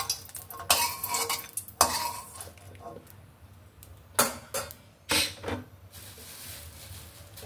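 Chopped garlic, onion and green chili hitting hot oil over fried leafy greens in a home kitchen pan, with scattered clinks and stirring scrapes and a few louder bursts of sizzle and clatter, no talking.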